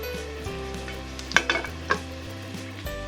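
Garlic fries in a thin layer of olive oil over low heat for carbonara-style cream pasta, giving a continuous soft sizzle with a few clinks and scrapes of stirring.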